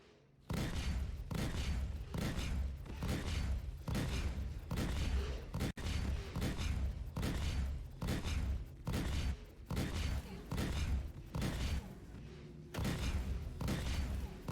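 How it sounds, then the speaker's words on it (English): Flare countermeasures firing from a spacecraft in Star Citizen, a steady series of loud, heavy thumping bursts about a second apart, continuous and close with no voices. "I launched flare countermeasures to interrupt the missile."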